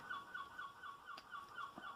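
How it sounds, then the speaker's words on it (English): Seagulls call in the distance, a faint run of repeated, evenly spaced cries sitting low behind a quiet room tone. "That's seagulls, believe it or not, you can hear in the background."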